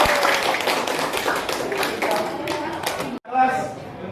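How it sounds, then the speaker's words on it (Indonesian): Classroom applause for students, with a busy patter of clapping hands and chatter that stops briefly, then a voice speaks over fading claps. "Tepuk tangan untuk semuanya."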